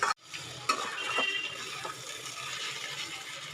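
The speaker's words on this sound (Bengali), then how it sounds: "এই পর্যায়ে পেঁয়াজটা ক্রমশ ভাজা হতে থাকছে, এখনো কিন্তু ভাজতে হবে।" Onions frying at medium heat in oil for an onion and garlic bhuna, a soft steady sizzle with occasional scrapes and clinks of a spoon against the pan, close and moderately quiet with no talking.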